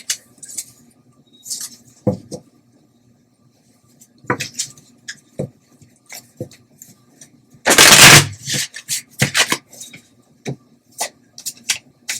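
Night Sun Tarot cards handled and shuffled close by in short, scattered bursts of papery riffling and slapping, with one louder, longer riffle midway and quiet gaps between.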